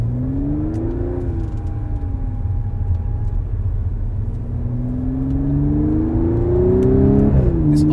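A supercharged V6 in an Audi S5 Coupe with quattro all-wheel drive accelerates hard, its engine note rising through the gears with a brief dip at a shift, loud and close with a steady whir beneath.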